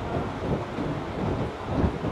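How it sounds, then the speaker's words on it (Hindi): Thunder rumbles amid light rain falling on a high-rise rooftop in Kuala Lumpur, a steady dense wash of rain and low rolling thunder with some wind, no voices. "बारिश शुरू है हल्की हल्की सी"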